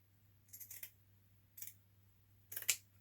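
Scissors cutting a small scrap of fabric, three short crisp snips spaced about a second apart, quiet and close over a faint low hum.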